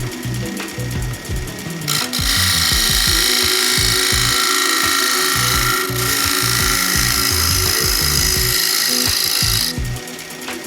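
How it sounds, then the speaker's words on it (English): A wood lathe turning a workpiece as a round nose scraper cuts it, making a steady, close scraping and rubbing whir with a brief break partway through. "changing tools now to my scraper, round nose scraper."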